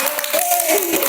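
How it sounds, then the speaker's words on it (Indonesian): Applause from a group at an Indonesian school teachers' session, a dense run of clapping with a voice speaking faintly underneath. "tepuk tangan untuk Bu Inten."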